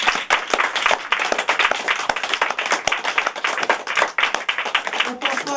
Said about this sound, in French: On les applaudit très fort tous les trois.